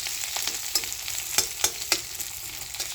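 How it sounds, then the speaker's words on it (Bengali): Sliced onion fries in hot oil in a pan for a puti fish curry, a dense, steady sizzle close up with a few sharp crackles and pops, no one speaking. "পেঁয়াজটাকে একটু ব্রাউন ব্রাউন করে ভাজবো আমি"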